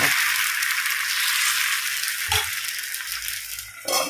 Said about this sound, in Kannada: ಕಾವಲಿ ಒಳ್ಳೆ ಬಿಸಿ ಆದಮೇಲೆ ದೋಸೆ ಆಗ್ತದೆ ಈ ರೀತಿ ಚಿಲ್ಲ ಅಂತ ಸೌಂಡ್ ಬರಬೇಕು